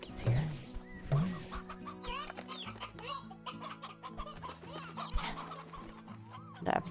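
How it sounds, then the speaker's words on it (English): Chickens cluck and squawk in the Slime Rancher video game, a busy flock of hens close by making steady overlapping clucks and occasional louder squawks throughout, with no voices. "A lot of chickens here."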